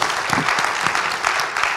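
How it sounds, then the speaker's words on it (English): Audience applause at an urban-imaging evening event, dense steady clapping from a crowd filling the room for a couple of seconds with no talk over it. "a round of applause for all of our speakers"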